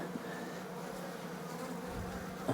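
Honey bees buzz steadily in an open hive during a swarm and split check, a dense, continuous hum close by with a few louder passing bees and no talking.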